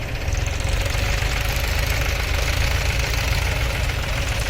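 John Deere 5105 tractor stuck in mud, its engine running steady, loud and close with a continuous knocking drone and no talk.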